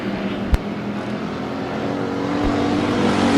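Dirt track stock cars race at Bakersfield Speedway, their engines a steady, loud roar that swells slightly over a few seconds, with one sharp knock early on.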